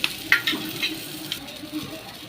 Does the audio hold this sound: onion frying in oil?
yes